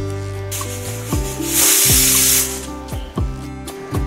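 A pressure cooker cooking rice lets off a loud, steady hissing burst of steam through its whistle, rising in the middle and fading with faint clinks.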